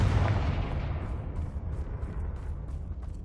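A Confringo fire spell in Hogwarts Legacy detonates as a loud, close booming blast that rolls off into a long rumbling, crackling decay.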